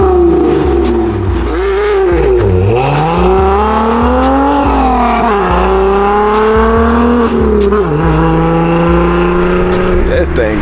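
An Infiniti Q50 with shorty headers and a Gemini cat-back exhaust revs repeatedly, loud and close, its engine note rising and falling in several sweeping pulls.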